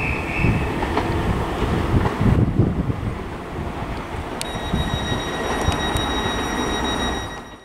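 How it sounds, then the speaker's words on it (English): A Southeastern class 465 electric train departs Sevenoaks station on the main line, a steady loud rumble of wheels and traction with wind buffeting, joined by thin high wheel squeal partway through, fading slightly at the end. "And now departing as well is the 12:36 Southeastern service to Tonbridge Wells from London Charing Cross."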